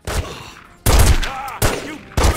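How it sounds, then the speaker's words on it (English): Shotgun blasts from The Godfather video game fire in four sharp, loud reports spaced unevenly, each with a booming low thump and a decaying tail before the next shot. "E ainda por cima levando tiro de shotgun,"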